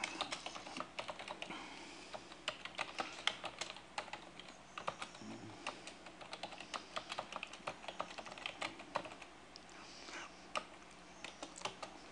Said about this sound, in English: We'll just type that in here.